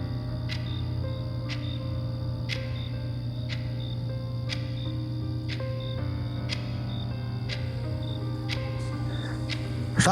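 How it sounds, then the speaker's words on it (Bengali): Crickets chirp outside at night in quiet countryside, giving a regular pulse of short, sharp chirps about once a second. The chirps sit over a low, steady droning background. "ঝিঝি পোকার ডাক।"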